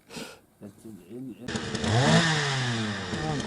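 A small engine, like a chainsaw, starts up and revs with rising, wavering pitch after a brief stretch of voices nearby.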